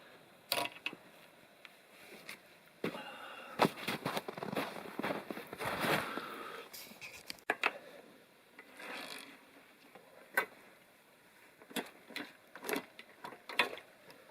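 Metal parts of a Granberg 24 chainsaw mill are loosened and an arm is slid out, giving scattered scraping, rubbing and clicking noises in irregular bursts, close by and fairly quiet, with no talking.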